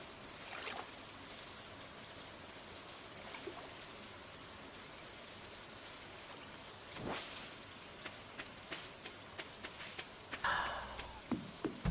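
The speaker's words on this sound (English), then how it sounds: "it's gonna be a rainy day" Rain falling in the video game Stardew Valley, a soft steady patter of drops that stays faint throughout, with a few brief louder bursts near the end.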